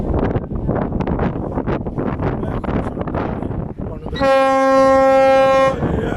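Wind and rumbling noise give way to a loud, steady boat horn blast lasting about a second and a half, then it cuts off.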